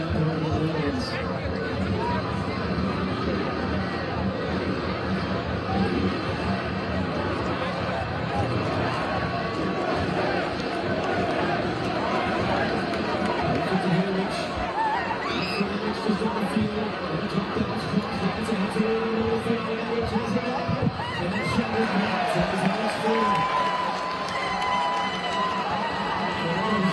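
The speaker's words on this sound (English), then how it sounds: "The crowd responding as well." USA football fans watching USA vs Bosnia at the FIFA Fan Zone in Washington, D.C., a dense, continuous crowd roar of chatter and scattered cheering, with a commentator's voice talking over it throughout.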